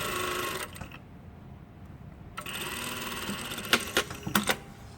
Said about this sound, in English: make sure that you've got a 1 centimetre seam allowance left over, and then sew that in